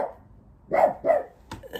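Winnie, a dog, barks at another dog across the road, giving three sharp, close barks spaced about a third of a second apart after a brief quiet start.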